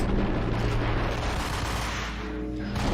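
Dense, continuous gunfire from Max Payne, with shots overlapping into a loud, unbroken roar that lasts the whole three seconds.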